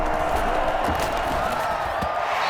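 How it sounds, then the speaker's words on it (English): Crowd noise from a Madden NFL 21 football game on PS5 with New England playing Buffalo: a steady, dense stadium roar with scattered cheering and light clapping holding at an even level throughout. "How about some applause for the defense there?"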